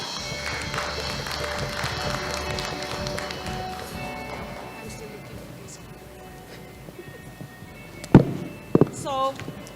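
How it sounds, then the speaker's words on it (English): An indoor conference audience applauds in a dense patter that fades over the first few seconds, followed by a few sharp knocks near a microphone. "Let's give him a warm round of applause."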